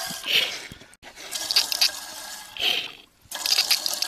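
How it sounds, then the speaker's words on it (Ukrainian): Drink poured into a cup outdoors, short gurgling splashes in two or three bursts with brief pauses between, fairly close and moderately quiet. "Женька, наливай!"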